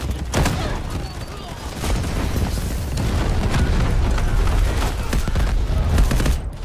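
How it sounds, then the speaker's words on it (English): Artillery shells explode again and again in a Battlefield Havoc Mode battle: dense, rumbling booms and crackling blasts roll on continuously and loudly, with heavy low-end impacts and a constant wash of gunfire. "Incoming artillery."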